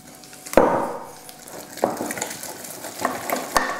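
A spoon works egg mixture into thick choux pastry dough for profiteroles with soft squelching strokes and a few sharp knocks against the bowl, close up, with no talking.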